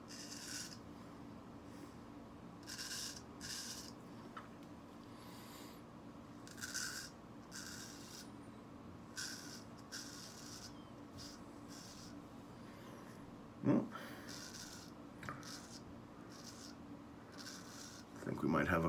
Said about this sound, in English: I placed that razor down with a little bit more force.